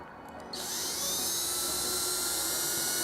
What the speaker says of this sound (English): that's the drill bit trying to go in